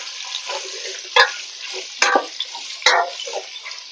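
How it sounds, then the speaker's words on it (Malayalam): Bitter gourd frying in oil in a pan over a high flame for a Kerala thiyyal, a steady close sizzle broken by three sharp stirring scrapes and clatters of a spoon against the pan. "ഈ എണ്ണ കിടന്ന് പാവയ്ക്ക നല്ലപോലെ ഒന്ന് വാടട്ടെ."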